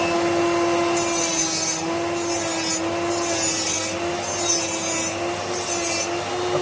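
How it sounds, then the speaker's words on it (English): A drill fitted with a mandrel grinds around the inside of a TTR250 motorcycle cylinder during a 325cc big bore build, a steady close abrasive rasping with a constant motor whine, pulsing in rhythmic strokes for several seconds without speech. "you can get some sort of a mandrel in your drill, and on a nice little angle just run around it like this"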